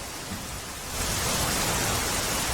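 Rain falls over Ahmedabad under dark, heavy clouds, a steady broadband hiss that swells noticeably louder after the first second and stays dense and even to the end.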